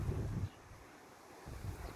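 Wind blows outdoors across a garden in low, gusty rumbles against the microphone, two buffets separated by a quieter lull, faint overall.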